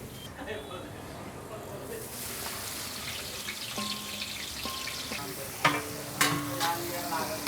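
Onions deep frying in a large batch of oil for restaurant-style chicken biryani, a continuous busy sizzle with scattered clatter and a few clunks near the end, speech faintly underneath.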